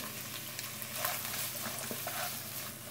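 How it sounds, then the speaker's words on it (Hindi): Onions frying in ghee in a nonstick pan give a steady, close sizzle with small crackles and pops, no voice over it. "सबसे पहले जो है नॉनस्टिक पैन के अंदर जो है घी डाल दूंगी। घी डालने के बाद साथ ही जो है मैं इसमें प्याज शामिल कर दूंगी।"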